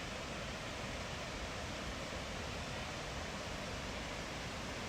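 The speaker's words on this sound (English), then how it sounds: "within the Waterton town site, there is a waterfall" A waterfall in the Waterton town site in southern Alberta produces a constant, even rushing roar with no breaks, heard steadily from close by and unaccompanied by voices.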